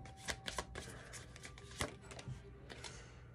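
A deck of tarot cards is shuffled close by in a run of quick riffling and soft snapping bursts, fairly quiet and uneven, with no talking over it.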